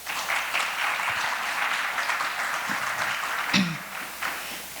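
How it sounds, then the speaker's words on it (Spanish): A conference audience gives a steady, full round of applause after a panelist is introduced. The dense clapping is moderately distant and holds evenly before easing slightly near the end. "Démosle un fuerte aplauso, por favor"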